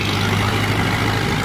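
A Mahindra Arjun 605 tractor hauls a heavily loaded high trolley, its diesel engine holding a steady, loud low drone with a firm bass hum throughout, no voices over it.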